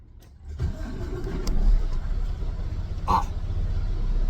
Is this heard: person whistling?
no